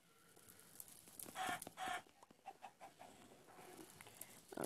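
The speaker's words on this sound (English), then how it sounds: "I'm gonna follow the chicken." A chicken in the parkour video game Escape Home clucks in a string of short, fairly faint calls, spaced unevenly over a quiet background with no speech.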